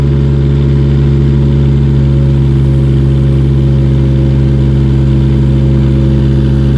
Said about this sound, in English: Starting lifting with the boom cylinder.